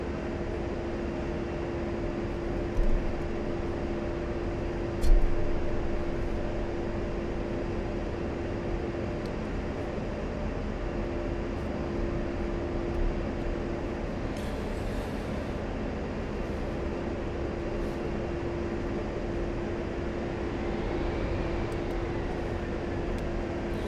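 An A-10C jet in the flight simulator Digital Combat Simulator gives a steady cockpit engine drone with a constant tonal hum, continuous and fairly loud, with a few soft clicks and a thump early on and no talking.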